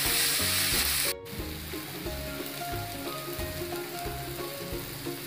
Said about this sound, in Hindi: आउ भुसुंगा पत्र, धनिया पत्र आपको भी भल भाव में भाजी ना।